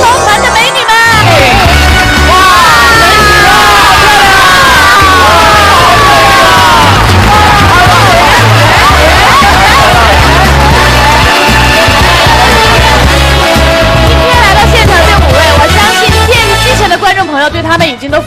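Audience at a Shanghai Yue opera commemorative show erupts in loud, sustained applause and cheering with whoops and shouts, a dense crowd roar lasting throughout before tapering at the end.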